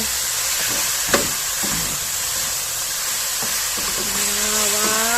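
Chicken with red holy basil stir-fried in a pan, a steady loud sizzle and hiss throughout with a few sharp scraping clicks of a utensil against the pan, and a faint tonal squeal rising near the end.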